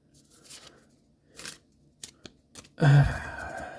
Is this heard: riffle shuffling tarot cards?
yes